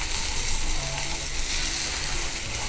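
Onion and spices fry in a hot steel pan on a gas flame, giving a steady, close, continuous sizzle with faint scraping of stirring, and no voices.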